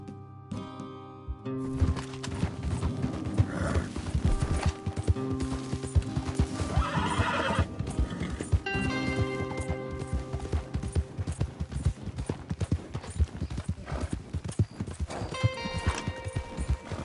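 Horses in a video game whinny and neigh repeatedly over a steady clip-clop of hooves, with a bird chirping faintly; no one speaks.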